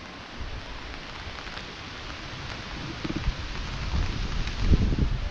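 Steady heavy rain falls outdoors at a farm in Naringre, Devgad, a dense wash of hiss that thickens toward the end, with some low rumbling and wind buffeting on the microphone; no one talks.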